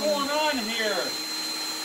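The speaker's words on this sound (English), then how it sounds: "And my husband is vacuuming." A household vacuum cleaner hums steadily in a home, a constant drone beneath someone talking over it.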